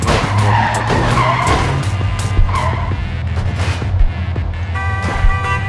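Trucks skid continuously in the video game Clustertruck, a loud, sustained screech of tires over rumbling engines and crashing impacts, with no talking.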